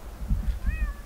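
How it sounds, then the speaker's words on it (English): Several cats meow in the video game Thirty Flights of Loving, a thin rising-and-falling meow near the end over a low, murmuring background, brief and fairly close. "I hear kitties. Meowing."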